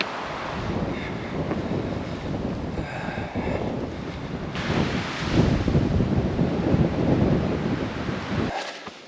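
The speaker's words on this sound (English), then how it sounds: "Oh, this breeze feels nice." Breeze blowing across a hiking trail on the Superior Hiking Trail, a steady rushing wind buffeting the microphone close up, swelling louder midway and continuing without speech.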